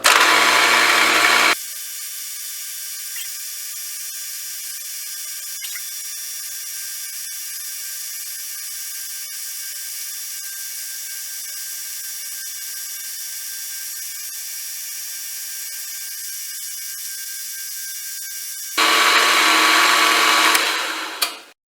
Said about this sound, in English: I'll lock that and I'll just walk around the perimeter of the part, put a chamfer all around it